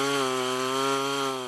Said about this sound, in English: Some family members with chainsaws in hand